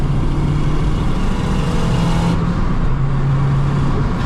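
A 500bhp Honda Civic FN2 Type R pulls hard in fifth gear, its engine droning loud and steady from inside the cabin with a continuous low roar and rising tone, no voices over it.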